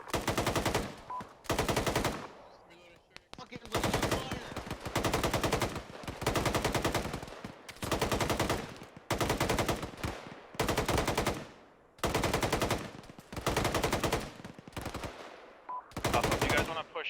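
Bursts of automatic gunfire in a firefight in the military simulation game Arma, long rattling machine-gun volleys repeating with brief gaps between them, loud and close, with no talking over the shots.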